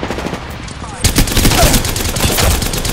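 Rapid automatic gunfire in a Revenant Apex-style shooter: a quiet stretch, then loud, tightly spaced shots hammering continuously for about two seconds, close and harsh.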